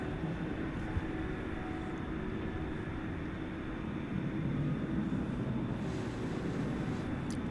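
Distant, steady jet roar from a 16-year-old Boeing 747-400 at DFW Airport at night, a continuous broadband rumble with no voices.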